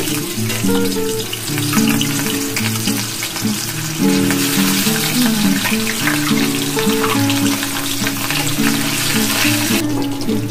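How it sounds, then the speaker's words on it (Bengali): Continuous loud sizzling and crackling of fish frying in hot oil, steady throughout, with faint music in the background. "তেলটা আমার গরম হয়ে গেছে। আমি এবার মাছটা দিয়ে দিচ্ছি।"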